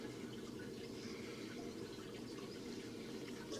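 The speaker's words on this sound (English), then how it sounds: "I'm going to be filling it up with water and running it through the tap" Water running from a motorhome tap in a steady, faint rushing flow with slight splashing throughout and no voices.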